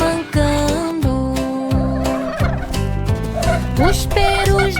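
Repeated turkey gobbles, strongly pitched and warbling, come in quick bursts over a children's nursery song with music, loud and up front.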